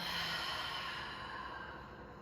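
A person takes a slightly deeper breath in and lets out a big, audible exhale, a single close, airy sigh that fades away.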